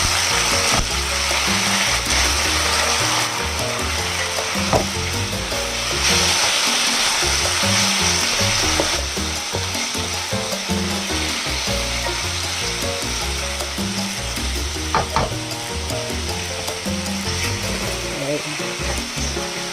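Onion sizzles and fries in a pan with a steady crackle, while scraping stir strokes and occasional light clinks come through close by.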